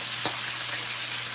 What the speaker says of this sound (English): You can hear that sizzle, sizzle popping.